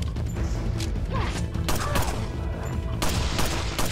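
Rapid gunfire and bursts of shots ring out in a Resident Evil 4 PS2 game battle, with repeated loud cracks and crashes layered over continuous game noise.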